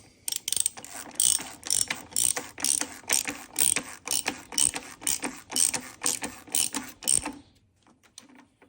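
Socket ratchet snugging the oil drain plug on a 2017-2019 Audi A4 B9 2.0T from below the car, a rapid series of sharp clicking strokes in short bursts, close and loud, then stopping into quiet.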